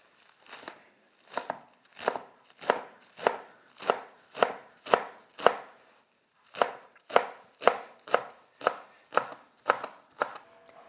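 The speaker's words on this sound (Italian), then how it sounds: "Ora taglio i fiori di zucchina che ho già ben lavato." A knife slices washed zucchini flowers on a board in quick, steady chops, about seventeen crisp cuts in two runs with a brief pause between them, close and clear with no voices.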